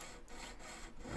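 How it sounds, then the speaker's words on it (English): A jeweler's saw cuts through silver in light, rhythmic strokes, a soft rasping back-and-forth that sounds faint and close with no talk. "And as with sawing any silver or gold"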